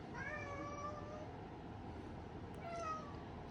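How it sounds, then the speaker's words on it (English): A house cat meows twice, each call a drawn-out plaintive cry, the first at the start and the second near the end, heard over a steady low background hum indoors. "The cat wants to chime in apparently."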